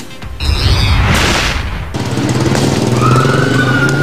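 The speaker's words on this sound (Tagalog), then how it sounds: "Sunod-sunod na malalakas na pagsabog ang narinig sa isang bahagi ng nasusunog na New Divisoria Mall" Heavy booming explosions roar through the burning New Divisoria Mall in Binondo, Manila, one loud blast after another with a crashing, rumbling wash of fire noise and no voices.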